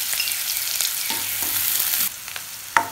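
Continuous crackling sizzle of chopped onion sautéing in hot oil with curry leaves, with a few soft scraping stirs and a brief clatter near the end.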